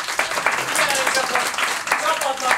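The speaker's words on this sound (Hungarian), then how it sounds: "Kövinek egy nagy tapsot" An improv theatre audience in Pécs applauds, with scattered and uneven claps rising and falling around bursts of voices.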